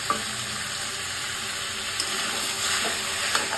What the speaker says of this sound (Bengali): এইভাবে আমি অল্প একটু করে জল দিয়ে দিয়ে মানে মাংসটাকে কষাই নিচ্ছি।